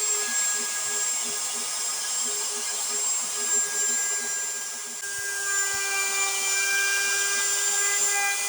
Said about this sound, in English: I finished it off with a clean 1/4 inch roundover on all of the edges